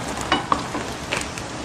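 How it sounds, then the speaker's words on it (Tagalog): Squash sautés in a hot pan with a steady oily sizzle, broken by a few scraping stirs of a utensil. "Sige, ngayon, ilagay mo yung kalabasa ngayon. Igisa mo rin dyan"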